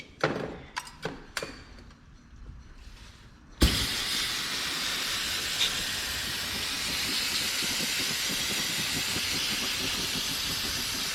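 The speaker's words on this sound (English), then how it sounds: "just hit this whole thing up with some brake clean again" Brake cleaner sprays from an aerosol can over car valve cover parts from a GMC Terrain, a loud steady hiss that starts abruptly after a few knocks and clatters and continues to the end.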